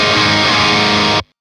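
High-gain electric guitar through an Orange OR30 or OR15 amplifier, a loud, dense, saturated chord ringing steadily before being cut off abruptly.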